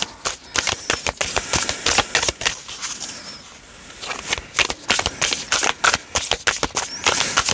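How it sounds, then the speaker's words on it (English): Tarot cards being shuffled during a pick-a-card reading, a dense run of crisp riffling snaps and flutters, with a short quieter pause midway before the rapid shuffling resumes, heard alone without talk. "I'm going to shuffle twice more."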